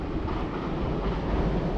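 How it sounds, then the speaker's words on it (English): A train rumbles past near an outdoor festival with food vendors, a steady broad rolling roar filling the whole short stretch without pauses. "Oh, the train passing by."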